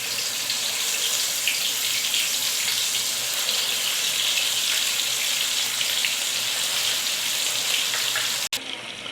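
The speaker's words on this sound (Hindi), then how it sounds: "कुकिंग ऑयल हो गया हमारा गरम। अब हम अपनी फ़िश डालते जाएंगे।" Fish frying in hot cooking oil gives a steady, loud broadband hiss and crackle that fills the whole span without pause, with no voices over it.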